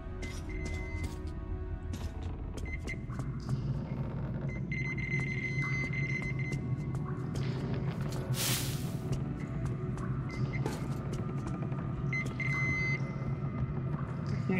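Electronic beeping from an object in Metro Exodus, a steady series of tones running through a dense in-game rumble of machinery and ambience, with no talk over it.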